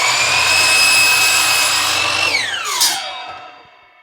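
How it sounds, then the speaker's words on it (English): A miter saw cuts scrap wood pieces into legs with a loud, steady high-pitched motor whine that drops in pitch as the blade winds down, ending in a brief rattle and fading quiet. "I'm going to take all 4 of these over to the miter saw and get these cut to"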